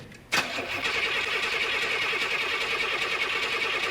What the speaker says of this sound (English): getting this monster motor fired up and running like it's supposed to